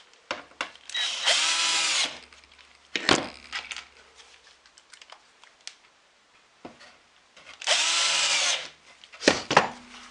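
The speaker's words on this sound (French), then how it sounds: "Je visse ma première" A power drill drives a screw into wood while a storage box is being built, with two bursts of whirring motor at close range separated by quieter clicks, taps and handling noise.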